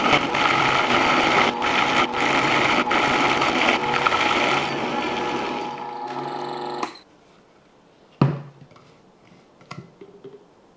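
A Vitamix blender churns a thick mixture with a loud, steady motor roar for about seven seconds. It then cuts off, leaving a sharp knock and a few faint handling sounds.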